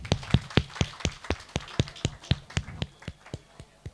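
Applause at a sangeet celebration: a small group clapping in a steady, fairly even rhythm of sharp close claps, about four per second, continuing for the whole stretch and fading slightly toward the end.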